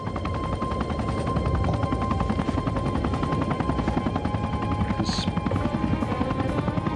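A helicopter sweeping a searchlight overhead thumps loudly and steadily with fast, rhythmic rotor beats and a constant whine.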